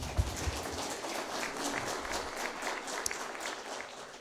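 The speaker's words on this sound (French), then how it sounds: "Vous applaudissez." Faint applause from the audience at an international energy forum, a soft continuous patter of many hands heard from a distance, with a few sharper claps standing out.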